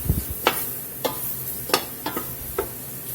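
Chicken and dumplings with celery cooking in a pot over a medium-low fire, with a steady low simmer and a few sharp stirring scrapes spaced about half a second apart, close by and moderately loud with no talking.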